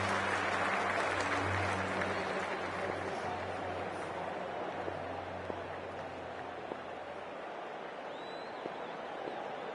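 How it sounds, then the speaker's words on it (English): A stadium crowd at a Hundred cricket match between Oval Invincibles and Welsh Fire applauds in Cricket 24, a steady wash of clapping with a low hum underneath, continuous and evenly loud throughout. "already the crowd is up and about"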